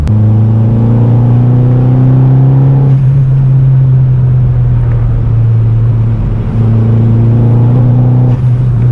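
Turbocharged Vauxhall Corsa B with a C20LET engine, heard from inside: a loud, close engine drone rising through the gears, with a gear change near three seconds, then climbing again under boost.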